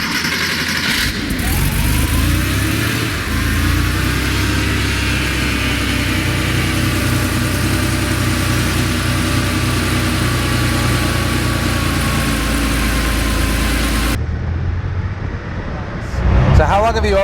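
A Porsche 911 Speedster's engine drones loudly and steadily from inside the car on a drive, holding a constant pitch before cutting out abruptly near the end.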